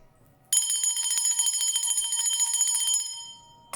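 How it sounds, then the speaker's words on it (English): A small bell struck once and left to ring, a bright shimmering tone with a rapid tremolo that holds for over two seconds before fading; quiet room, no talk. "I'm just ringing the bell to dissipate any low vibrational energies"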